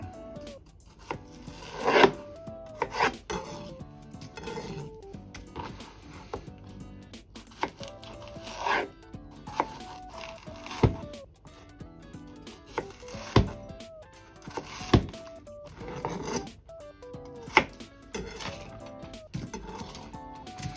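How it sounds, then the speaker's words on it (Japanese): A kitchen knife cuts Chinese yam (nagaimo) and green onions on a board, producing irregular clusters of sharp chopping taps with quiet pauses and occasional scraping, close and moderately loud, with no speech. "こんな感じでね、長芋の方、小ネギの方、切り終わりました。"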